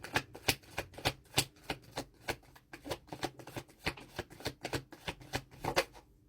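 Tarot cards being shuffled by hand in a series of crisp, evenly spaced riffling slaps and flutters, close up and fairly quiet, with no talking.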